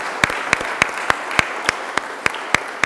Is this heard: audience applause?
yes